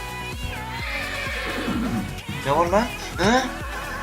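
Horses neigh in the Minecraft video game, with repeated whinnies over the game's background sounds while a person talks.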